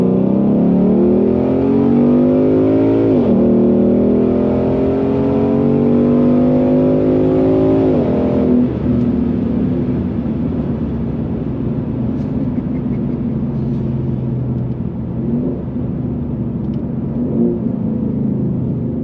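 A Ford Shelby GT350 Mustang pulls hard in second gear from 30 mph, its V8 climbing in a rising roar before a gear change and another climb, then settling into a steady loud drone, heard from inside the car.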